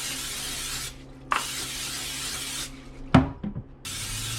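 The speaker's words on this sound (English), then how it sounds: "So I'm going to use the oil spray." A cooking oil aerosol can hisses in several bursts, steady broadband spraying broken by short pauses and a few clicks and knocks, fairly close, while making vegetable chow mein.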